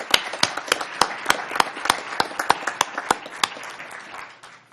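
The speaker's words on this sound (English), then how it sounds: "Can we give them one more round of applause" A crowd clapping at a Board of Supervisors meeting, with sharp distinct claps standing out over a dense patter of applause that gradually thins toward the end.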